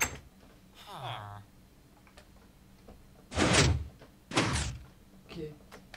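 A door opens in a French-language adventure video game, heard as two loud broadband whooshing thunks about a second apart, with brief speech and game sounds around them.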